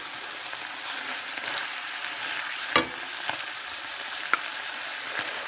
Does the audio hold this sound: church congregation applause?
no